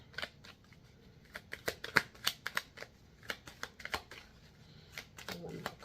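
Tarot cards drawn and flipped from a deck during a Pisces reading, giving a run of crisp papery snaps and shuffles, close and fairly quiet, with a voice speaking at times between them.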